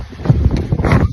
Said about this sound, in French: Des méchants rafales de vent.